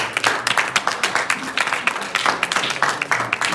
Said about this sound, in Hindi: इनके लिए ताली हो।